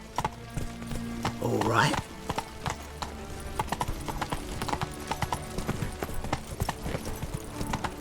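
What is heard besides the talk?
horse hooves clip-clopping while riding in video game The Witcher 3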